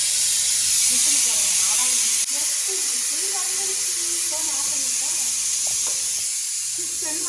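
A pressure cooker of mutton gravy hisses with a loud, steady rush of steam that runs through the whole stretch, while a voice talks over it.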